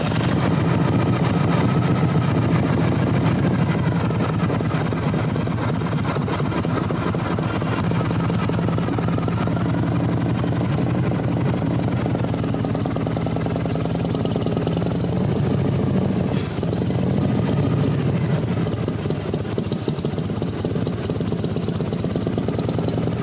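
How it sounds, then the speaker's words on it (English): A 1970 Harley-Davidson Shovelhead FLH motorcycle engine runs in a steady, loud, rumbling drone for the whole stretch, close by and unbroken, with no talk over it. "ride a motorcycle into this building"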